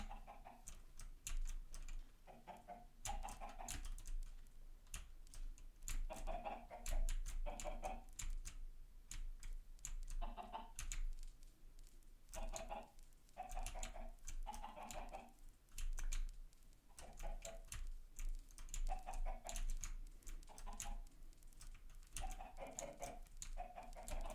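A crowd of chickens in the Minecraft video game clucks in brief recurring bursts, mixed with constant rapid clicking like keyboard typing throughout.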